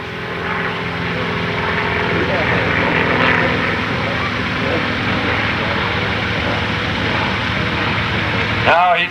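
A small propeller plane flies aerobatics at an airshow, its engine a continuous droning buzz that swells and fades as it climbs and pushes over, loud and steady across the whole stretch.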